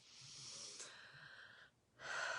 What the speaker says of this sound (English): just take a few deep breaths into that area